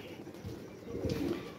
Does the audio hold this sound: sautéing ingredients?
no